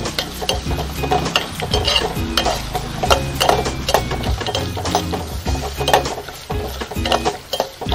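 Green chillies, ginger and garlic sauté in a pan for a large lemon pickle, with close, continuous sizzling and scraping stirring strokes that land at an uneven rhythm throughout.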